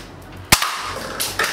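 Air rifle firing BB pellets at a paper cup: two sharp, loud cracks about a second apart, the first at half a second and the second near the end, with a smaller impact-like click between them and no talk.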